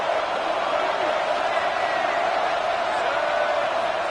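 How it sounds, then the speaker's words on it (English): A football stadium crowd roars steadily in support of the home defense during a red zone stand, a dense, continuous wall of cheering and noise that holds loud and unbroken throughout. "This crowd is trying to inspire this defense to make a big red zone stop."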